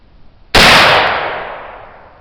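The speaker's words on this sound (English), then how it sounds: "Okay, second shot, silver maple black powder." A test shot of homemade black powder made with silver maple charcoal goes off as one sudden loud blast, followed by a long hissing roar that fades slowly over about two seconds.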